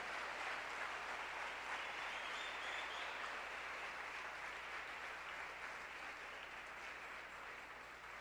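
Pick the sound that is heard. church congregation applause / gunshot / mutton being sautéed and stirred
church congregation applause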